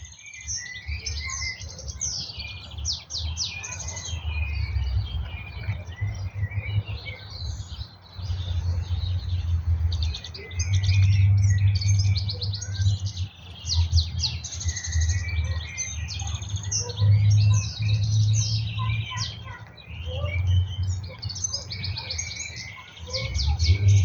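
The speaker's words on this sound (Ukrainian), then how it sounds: "спів цих пташок" Many birds in New Zealand countryside sing and chirp steadily, high and fairly close, over a low rumbling background.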